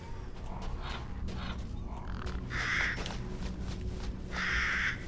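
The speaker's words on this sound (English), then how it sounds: "Crows. More crows. More crows than you can shake a fucking stick at." Crows caw in a Resident Evil game, several harsh raspy calls scattered over background ambience, two louder caws standing out near the end.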